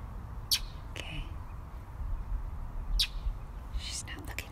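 A bird up in a park tree gives a few short, faint chirps scattered over a quiet outdoor background.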